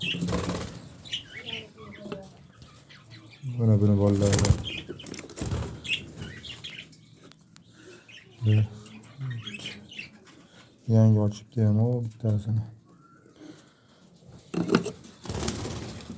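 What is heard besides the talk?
German pigeons flapping wings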